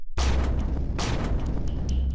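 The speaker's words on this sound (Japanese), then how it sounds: "爆発音か？" A loud explosion booms in a dramatized assassin story, erupting suddenly after a brief silence and rumbling on with a second burst and scattered crackling debris, with no voices present.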